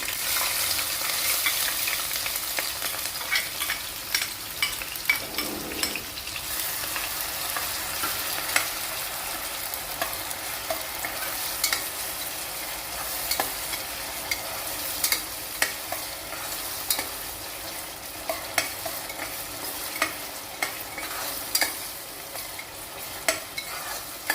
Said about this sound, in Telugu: ముందుగా కట్ చేసి ఉంచుకొని ఉల్లిపాయ పచ్చిమిరపకాయ వేస్తున్నాం.